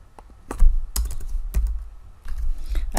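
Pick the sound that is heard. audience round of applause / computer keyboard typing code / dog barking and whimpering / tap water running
computer keyboard typing code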